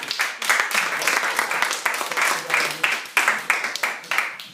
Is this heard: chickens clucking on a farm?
no